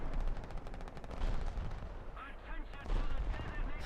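Rapid bursts of gunfire and heavy booming tank shots in War Thunder, dense and continuous, with a voice speaking faintly underneath.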